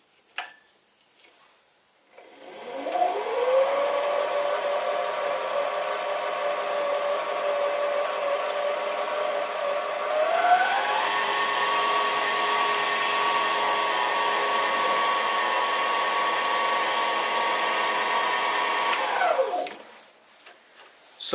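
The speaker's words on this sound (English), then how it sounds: "I'm now going to use the centre drill just to put a small hole in there" A mini lathe spins up with a rising whine, runs steadily while a centre drill cuts with a high tonal hum, then winds down.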